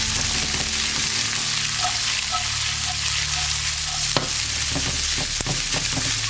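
Chopped onion and peppers sizzle in a hot pan for a garden-fresh pork pasta, a steady loud frying hiss with a few sharp scrapes and knocks as the vegetables are stirred.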